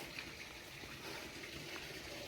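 Water flows steadily inside a drinking-water chamber on a forest trek in a valley, a faint, continuous rushing gurgle with no voices over it.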